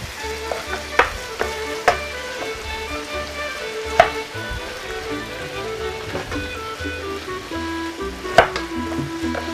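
Meat sizzles and fries steadily in a pan for a Cilician-style dish, a continuous crackling hiss with occasional sharper clinks of a utensil against the pan, fairly close and with no talking.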